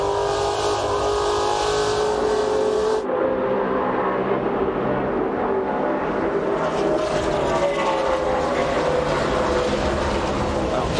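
NASCAR Craftsman Truck Series trucks roar around the track at Gateway in the Dodge Dealers Ram Tough 200, a loud continuous engine drone with passing shifts in pitch, while a commentator talks over it in French.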